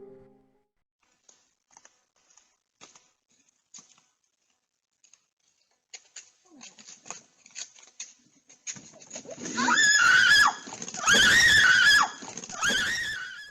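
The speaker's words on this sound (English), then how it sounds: "Her scream also startles the cub" A woman screams in several loud, piercing bursts near the end, preceded by scattered faint rustles and ticks in an otherwise quiet outdoor setting.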